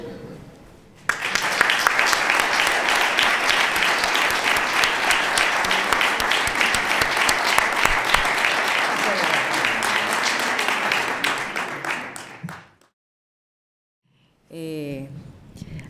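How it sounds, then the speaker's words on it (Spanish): Sustained applause from a lecture audience, loud and dense for about eleven seconds before fading out, followed by a short silence and then a speaking voice. "¿Le mandamos un aplauso al tío Juan Amo?"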